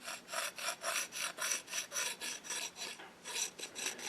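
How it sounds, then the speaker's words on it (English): Rhythmic rasping strokes of caliper points scribing a centerline along the edge of a steel kitchen knife blank, about a dozen even back-and-forth scrapes close up, with no talking. "just use the calipers as a scribe"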